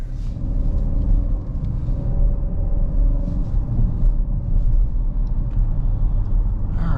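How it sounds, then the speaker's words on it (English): A 2024 Cadillac XT5 Sport cruising on the road gives a steady low rumble of engine and tire noise throughout, continuous and fairly loud from inside the cabin, with no talking. "let's take the Cadillac XT5 out for a little drive"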